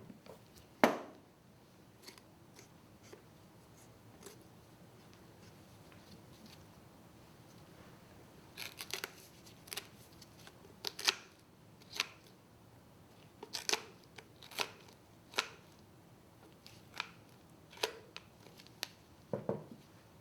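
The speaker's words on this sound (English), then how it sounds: "Using bone cutters, cut the costal cartilages close to the sternum" Bone cutters snip through the costal cartilages near the sternum during a small animal necropsy, giving a series of sharp, faint crunching clicks, isolated at first and then coming in irregular quick bursts in a quiet room.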